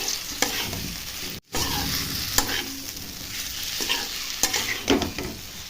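Potatoes and cauliflower stirred through a spiced masala in a pan, a steady close sizzle broken by repeated scraping strokes and one brief pause, with no talking.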